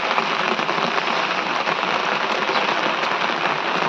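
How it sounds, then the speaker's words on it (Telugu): Heavy rain falls in a dense, even hiss, loud and constant throughout with no voices. "మీకు ఇప్పుడు పైనుంచి చూపిస్తా వర్షం ఎట్లా పడుతున్నాయి"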